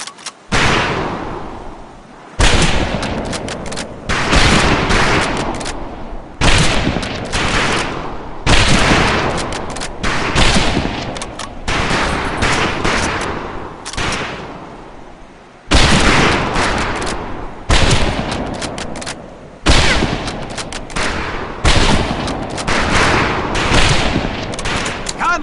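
Rifle volleys at a firing range in Medal of Honor Pacific Assault, loud sharp cracks in repeated bursts with ringing decay between them, some shots overlapping in rapid clusters.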